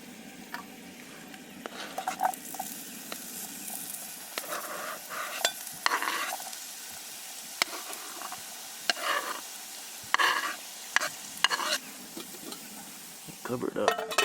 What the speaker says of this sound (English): And then we'll get our onions and garlic going.